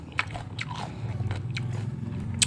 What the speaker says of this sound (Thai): ขออนุญาตทานเสียงดังนะครับ เพราะว่ามันกรอบจริงๆครับ